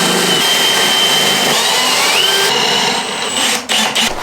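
A power tool loosens bolts on the rear door plate of a 4x4 7.3 Ford Econoline van conversion, a loud, steady, close whirring drone that holds for several seconds before cutting out in short stops near the end.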